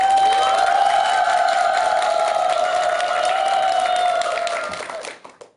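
An audience at a Buddhist monk's lecture applauds and cheers steadily, a sustained wash of clapping and calls that fades out toward the end.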